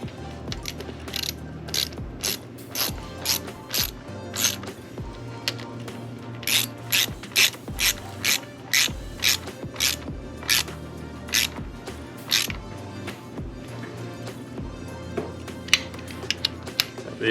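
A ratchet tightens 10 mm bolts on the big bore top end of a Honda CRF110 pit bike, with close, crisp clicking bursts repeating in quick runs separated by short pauses.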